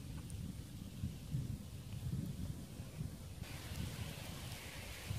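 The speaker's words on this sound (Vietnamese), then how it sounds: "Rồi trời mưa lớn luôn" Heavy rain pours outdoors during a fishing trip for climbing perch, a steady, dense wash of noise that stays even throughout with no voices.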